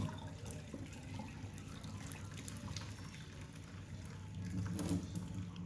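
Boiled water is drained from a pot of peas, pouring and trickling steadily at a low level, swelling briefly toward the end, with no voices.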